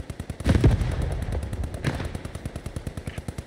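Rapid automatic gunfire in Post Scriptum, a loud burst of fast evenly spaced shots near at hand, with heavier blasts early and the rhythm continuing to the end.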